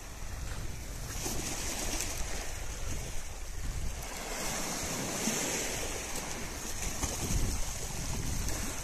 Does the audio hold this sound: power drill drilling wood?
no